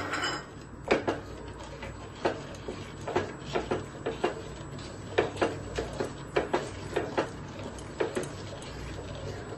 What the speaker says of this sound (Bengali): আবার সবগুলো একসাথে নাড়তে থাকবো।